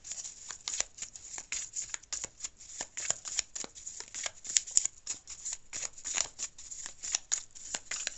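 Tarot cards being shuffled by hand, giving a steady run of crisp riffling and flicking sounds close to the microphone, with no talking.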